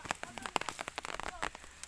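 Rain falls on a cassava field, heard as a faint, scattered patter of separate drops striking a surface, quiet and irregular with no voices.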